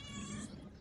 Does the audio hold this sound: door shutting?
no